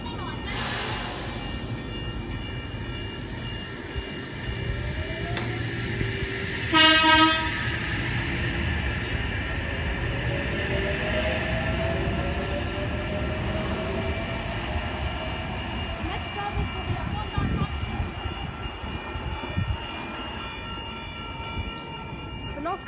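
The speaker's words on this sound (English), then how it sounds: "Oscar passing platform 1, Bondi Junction service." A Sydney train, with set H32 leading, passes through Woonona station at about 90 km/h as a Bondi Junction service, a steady loud rumble of rolling wagons throughout and a short horn toot partway through.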